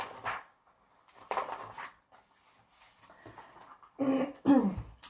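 A dog barks in a few short, fairly close bursts separated by quiet gaps, with a final pair of louder barks near the end.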